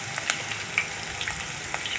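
Potato chips frying in hot oil with green chilies, curry leaves, cumin and asafoetida, a low continuous sizzle with a few faint stirring clicks and small pops, no voices.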